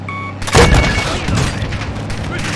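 Gunfire and explosions from the Modern Warfare 2 Spec Ops mission "Denied Area" burst loudly, with a heavy boom followed by sustained rumbling game combat.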